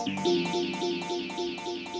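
A swirling synth texture with a rhythmic, repeating sweep rolls steadily in a regular pulse, full and airy, with no talking.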